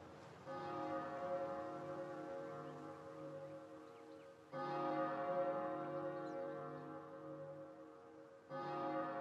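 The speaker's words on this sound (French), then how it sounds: "Ces cloches sonnent le début d'une nouvelle ère." Church bells in the game Professor Layton vs. Phoenix Wright, a sustained, resonant peal that swells in three successive strikes, each ringing out and slowly fading before the next.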